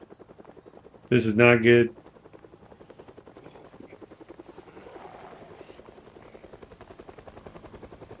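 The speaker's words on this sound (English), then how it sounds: "Yep, it's the heli." In the Project Zomboid zombie survival game, a helicopter's rapid rhythmic blade chop pulses steadily throughout at moderate distance, with someone speaking briefly over it near the start.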